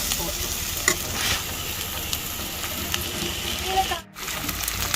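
Potato masala frying in oil keeps up a strong, close crackle with faint stirring scrapes, cutting out briefly near the end before the sizzle returns, and no one speaks.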